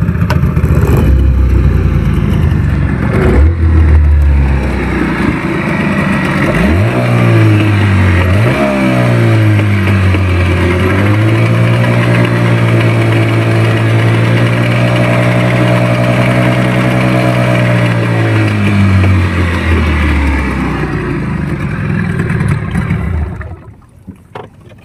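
A Yamaha 15 hp outboard boat motor, prone to overheating, starts up with a pull and a surge, then runs steadily at idle for about twenty seconds, loud and close, before cutting off.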